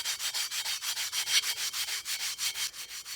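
Rhythmic back-and-forth scrubbing of a clay amphora with clean sand and a scrubby, a steady gritty rasp repeating about five times a second, close and even, with no voices.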